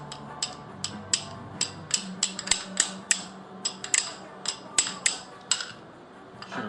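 A hammer strikes the engine crank again and again during an L Series head gasket replacement, about sixteen sharp metallic knocks at an uneven pace, close and fairly loud, with no talk over them.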